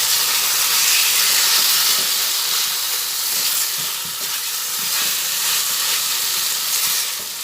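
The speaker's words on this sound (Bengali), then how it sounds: "ভালোভাবে একটু নাড়াচাড়া করে নিচ্ছি দেখুন এর মধ্যে দিয়ে তেল বেরোতে শুরু করেছে" Pointed gourd and chhana fry in oil while being stirred, giving a loud continuous hissing sizzle up close with faint scraping underneath throughout.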